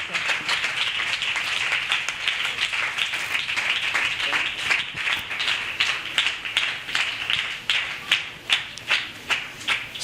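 A church congregation in Pakistan claps loudly and continuously, an energetic, dense applause that turns into rhythmic, evenly spaced claps toward the end, with voices mixed in.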